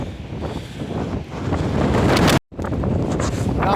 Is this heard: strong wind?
yes